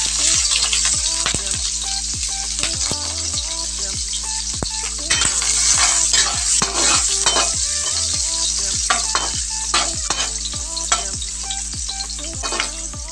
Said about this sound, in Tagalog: Maglagay lang tayo guys ng mantika sa kawali. Unahin lang natin igisa yung